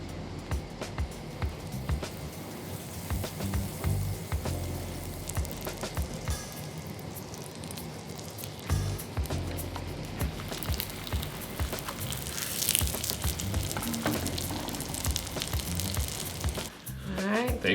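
Butter sizzles in a pan over medium heat while Yemenite malawah is being prepared, giving a steady crackling hiss with people talking over it.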